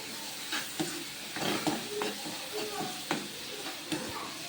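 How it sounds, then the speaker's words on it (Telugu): A paneer curry with ginger paste bubbles and sizzles steadily in a pan, with a few close stirring scrapes over the constant hiss. "నేను ఇప్పుడు కొద్దిగా అల్లం పేస్ట్ కూడా వేస్తున్నానండి. వేసి బాగా ఉడకనిస్తున్నాను."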